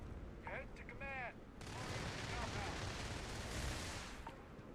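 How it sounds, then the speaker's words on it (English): Gunfire in the space RPG Starfield: a dense, continuous roar of shots runs steadily after a voice speaks briefly at the start, holding loud through the rest. "They're shooting right now."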